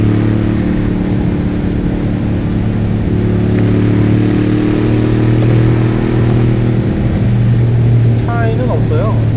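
Deep, heavy exhaust rumble from a 2022 Mercedes-AMG G63 in Sport Plus mode, a steady low drone held loud and close throughout, with a brief higher crackle near the end.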